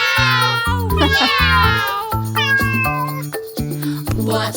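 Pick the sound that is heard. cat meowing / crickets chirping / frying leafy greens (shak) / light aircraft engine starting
cat meowing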